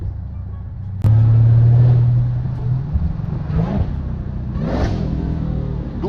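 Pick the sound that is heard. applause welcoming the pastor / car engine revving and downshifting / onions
car engine revving and downshifting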